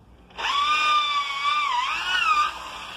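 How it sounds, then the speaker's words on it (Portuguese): A power drill with a quarter-inch bit bores a hole, giving a whining, high-pitched tone that starts abruptly, holds for about two seconds with a slight dip in pitch, then stops. "Vou usar uma broca aqui de um quarto, tá? Vou fazer dois furinhos em cada lado."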